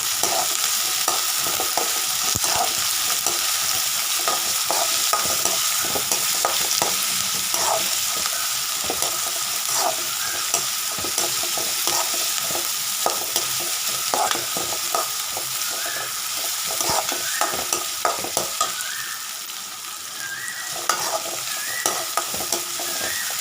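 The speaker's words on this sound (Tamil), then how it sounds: "அடுத்தது கருவேப்பிலை போட்டுக்கோங்க." Curry leaves sizzle and crackle in hot oil in a home kitchen pan, stirred steadily with scraping strokes over a continuous frying hiss, loud and close with no talking.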